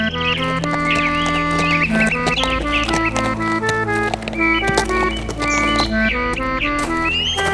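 Hooves clip-clop in a steady walking rhythm beneath loud, continuous background music.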